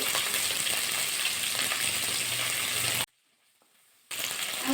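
Thinly sliced potato and okra frying in a pan with salt and turmeric, a steady loud sizzle that cuts out abruptly for about a second before resuming.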